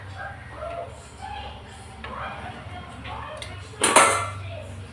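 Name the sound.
knife cutting bottle gourd pieces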